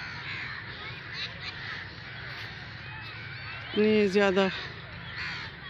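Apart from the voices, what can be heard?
crows cawing in a tree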